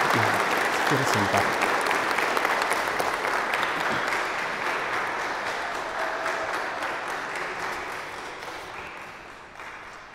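Congregation applauding loudly at a quinceañera Mass in church, a long steady wash of many hands clapping that slowly fades, with a brief spoken voice near the start.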